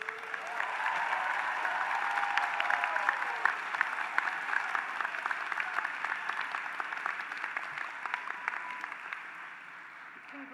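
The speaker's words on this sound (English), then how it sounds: "Please give the new graduates another round of applause." A large audience applauds continuously at a university graduation ceremony for urban planning and public affairs graduates. The clapping is dense and sustained, with a faint voice underneath it.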